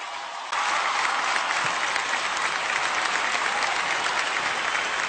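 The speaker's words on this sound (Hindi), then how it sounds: "सो आज की शाम की शुरुआत करते हैं आपकी जोरदार तालियों के साथ।" Loud, sustained applause from a large audience at an awards show, starting abruptly and continuing steadily as a dense wash of clapping with no voices above it.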